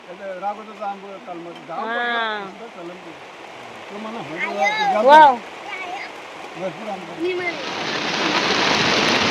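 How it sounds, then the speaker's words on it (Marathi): Heavy rain pours down over countryside fields, a dense hiss swelling up near the end after a stretch where people talk over softer background noise. "भारी पाऊस पडतो रे"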